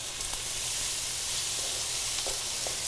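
Oil and onions sizzling on a hot griddle: a steady, close, hissing fry with a few faint stirring ticks and no speech.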